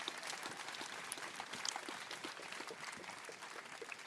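A crowd at an SCLC and NAACP Youth Coalition march in Tuscaloosa, Alabama, applauding with sustained, dense clapping and a few scattered cheers, heard from a moderate distance.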